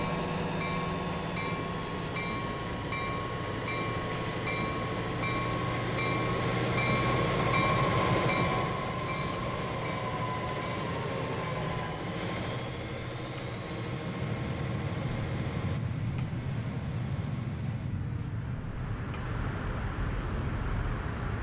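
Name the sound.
trams running in video game Transport Fever 2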